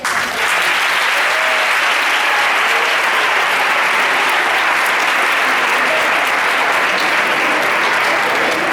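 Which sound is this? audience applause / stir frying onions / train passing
audience applause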